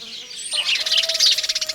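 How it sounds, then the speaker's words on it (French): House sparrows chirp in a rapid, close run of bright, repeated notes that grow busier toward the end, with a faint steady tone beneath. "vaguement dérangés par le pépillement des moineaux"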